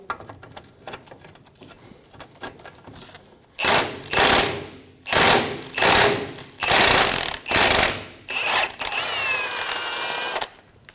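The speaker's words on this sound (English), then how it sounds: "Using a 14 millimeter socket, we're gonna remove the pinch bolt for the ball joint." A 14 mm socket on an impact tool hammers at a seized ball joint pinch bolt on a 2010–2014 Subaru Outback, firing in about seven loud, close bursts before one longer steady run.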